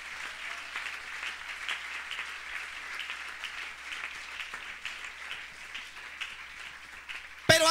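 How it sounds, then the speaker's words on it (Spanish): A church congregation applauds, producing a dense, sustained wash of many hands clapping at moderate distance for several seconds, ending abruptly with a brief louder sound at the close. "Denle ese aplauso al Señor"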